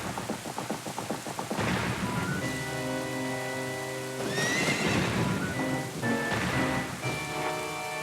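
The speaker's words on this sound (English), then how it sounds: "that is the one time it rained on Hyrule Field" Steady rain falls across Hyrule Field in The Legend of Zelda: Ocarina of Time, joined by a horse's neigh, clip-clopping hooves and a rumble of thunder over sustained game music throughout.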